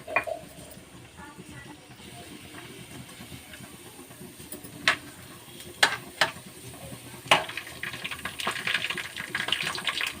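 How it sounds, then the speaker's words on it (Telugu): Tempering spices fry in hot oil with a low, steady sizzle and faint crackle, punctuated by a few sharp clicks and taps from a utensil, quiet and close. "Oil heat ఎక్కిందండి. పోపు దినుసులు వేసుకున్నాము."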